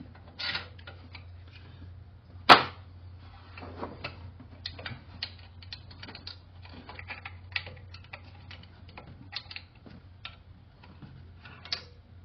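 A ratchet threads a long bolt through a spacer into the cylinder head during an LS swap on a C3 Corvette. Soft, fast, steady ticking continues throughout, with one sharp metallic knock early on and no voices.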